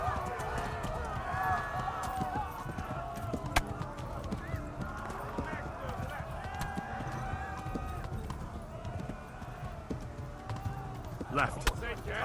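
A horse gallops in the video game Kingdom Come Deliverance, a fast rhythmic clip-clop of hooves running under game sounds and excited players talking throughout.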